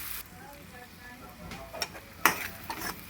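Onions and tomatoes cook in a pan for Andhra-style chicken gravy, giving a low, steady sizzle broken by a few sharp scrapes and clinks of a utensil against the pan, with no voices.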